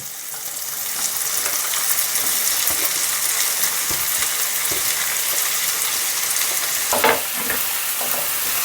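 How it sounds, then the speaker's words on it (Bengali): Chopped carrots and capsicum sizzle steadily with lightly fried tomatoes in a pan for pasta, a continuous close frying hiss broken by a brief utensil clatter near the end; no talking. "বাকি সবজিগুলো কেটে রাখা সবজিগুলো দিয়ে দিচ্ছি গাজর আর ক্যাপসিকাম"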